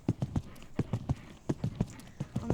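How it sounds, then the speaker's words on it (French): A horse canters on a cross-country jumping course, its hoofbeats landing in quick, regular clusters of thuds, fairly close and moderately loud, with faint background sounds between strides. "mon cheval, c'est un crack qui fait tout au galop allongé."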